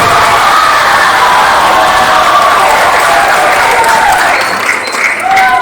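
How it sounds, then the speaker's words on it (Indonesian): Loud, close applause from students at a school orientation opening, mixed with cheering, whoops and shouting from young voices, sustained throughout with a brief dip near the end. "Tepuk tangannya keras dulu untuk ATU"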